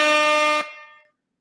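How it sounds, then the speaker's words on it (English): A single loud air horn blast, added as a sound effect on a sports talk show, holds steady for about half a second and then fades out in a ringing tail. "let's go ahead and give him some air horns"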